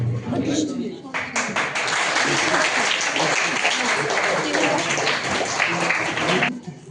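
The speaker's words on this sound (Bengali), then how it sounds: "সবাইকে করতালির মাধ্যমে বোঝাই।" An audience claps at a college freshers party during a trophy presentation. Dense, sustained applause fills about five seconds, with voices mixed in and briefly audible before and after.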